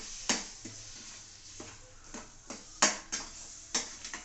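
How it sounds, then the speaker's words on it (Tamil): A spatula stirs a thickening banana and mango sweet mixture in a pan, with faint, regular scrapes and light clicks against the metal over a quiet background. "இதை இப்படியே கிண்டிக்கிட்டே இருக்கணும்."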